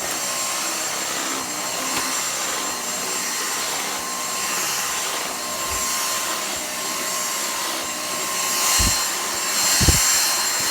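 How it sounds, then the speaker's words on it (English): A Dyson cordless stick vacuum, V6 or V7, runs continuously with a loud, steady high whine and airflow rush, with slight changes in pitch and a couple of low thumps near the end as it moves over carpet. "I can actually hoover on my knees basically."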